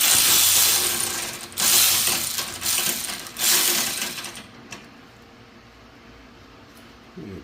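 A hand ratchet clicks in several loud bursts while loosening a 10mm bolt holding a cable in the engine bay of a Toyota Corolla 1.8 VVT, then falls to quiet handling noise.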